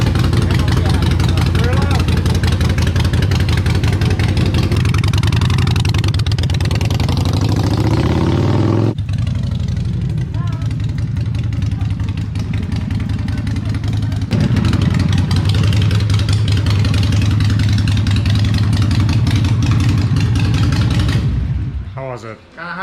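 A Harley-Davidson Sportster with newly fitted Progressive 412 rear shocks and air suspension runs steadily on a test ride, its engine droning loud and continuous under wind noise, briefly easing off before cutting out at the very end.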